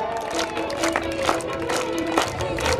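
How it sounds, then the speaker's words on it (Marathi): An audience at an outdoor school cultural performance applauds with a steady wash of clapping and crowd noise that holds fairly evenly throughout, with a sustained tone running underneath. "सगळ्यांच्या जोरदार टाळ्या असल्या पाहिजे."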